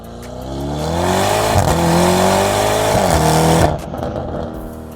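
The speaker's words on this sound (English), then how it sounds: "We have a brand new Lamborghini URUS rocking a full ARMYTRIX exhaust from the downpipe back." A brand-new widebody Lamborghini Urus with a full Armytrix downpipe-back exhaust revs up loud and close, the engine note climbing steadily through rising gears before the throttle lifts and it settles back.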